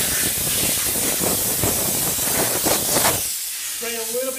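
A Chief Steamer 125 PSI steam cleaner hisses loudly and continuously as it blows out the seams between a car's taillight and body, cutting off near the end before a voice speaks.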